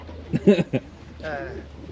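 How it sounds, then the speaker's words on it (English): A racing pigeon gives a few close, throaty coos in quick succession, followed by a softer trailing coo, with a faint background hum and no clear talk. "This is your bird. This is my bird."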